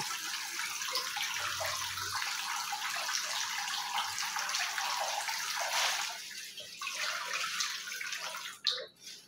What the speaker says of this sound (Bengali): এখন এই বেসিনটা ময়লা হয়েছে, বেসিনের ফুলগুলি ময়লা হয়েছে, এগুলি ধুয়ে আজকে পরিষ্কার করে নেব